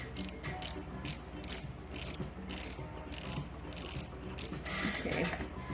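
Screw being unscrewed on an 1887 Singer VS-2 sewing machine, a steady close run of fine metallic ratcheting clicks and scraping that continues evenly throughout without pauses.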